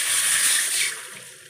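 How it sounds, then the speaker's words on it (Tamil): A glass of water poured into a pan of raw banana pieces with rock salt while cooking plantain fry, a steady close splashing gush that tapers off toward the end, with no talk. "1 கிளாஸ் தண்ணி ஊற்றிக்கலாம் வேகிறதுக்கு."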